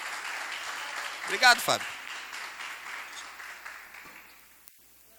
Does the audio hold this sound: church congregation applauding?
yes